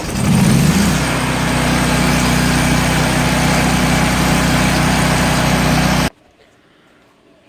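A Hobart Champion Elite gas-driven 10,000-watt welder generator starts with a brief rough burst, then runs at a loud, steady, buzzing drone up close for about six seconds before cutting off abruptly into silence.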